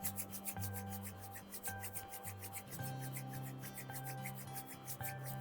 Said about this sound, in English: Rub your palm